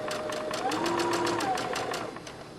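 A sewing machine runs in quick rhythmic stitching bursts while sewing a dress sleeve on smooth fabric, with a faint tonal hum underneath.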